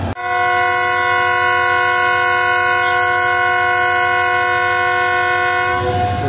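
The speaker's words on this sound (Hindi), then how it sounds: "तो मालगाड़ी निकल रही है।" A loud, sustained train horn blares steadily for several seconds, with the rumble of a passing freight train underneath near Khanewal railway station, Pakistan; no voices.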